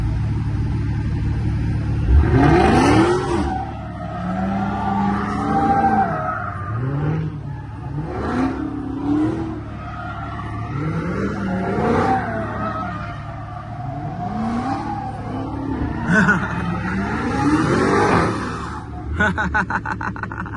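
A Dodge Hellcat widebody does donuts on fresh tires: loud engine revs rise and fall repeatedly with rumbling exhaust and tire noise, sustained throughout.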